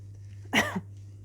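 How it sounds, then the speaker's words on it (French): A woman recovering from bronchitis coughs once into a microphone, a single short, close cough with a small follow-up catch, heard against a quiet room with a low hum. "Je tousse un petit peu, je suis désolée."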